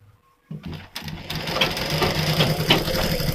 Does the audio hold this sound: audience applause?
no